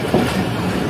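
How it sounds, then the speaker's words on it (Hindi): A Khyber Mail passenger train pulling into Landhi Junction railway station at night gives a loud, steady rumble of wheels and cars on the rails, a brief continuous rolling noise with no talk. "ट्रेन अपना पहला स्टॉप कर रही है, जो कि है लांडी जंक्शन रेलवे स्टेशन।"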